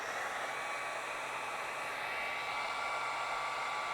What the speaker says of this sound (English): now we're going to heat shrink our harness wires.